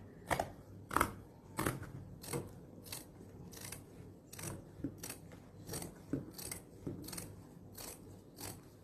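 Scissors trimming off excess material, a steady run of about a dozen crisp snips at a regular pace, close and clear with no talking.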